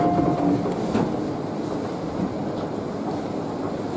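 A Tobu Noda Line express train runs along steadily, its broadband rail rumble and wheel noise filling the cabin with no speech, plus a brief faint tonal hum near the start.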